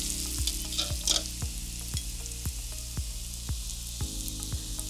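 Kuih loyang batter cookies frying in hot oil, a steady close sizzle with regular soft clinks of the metal mould dipping in about every half second, no talking.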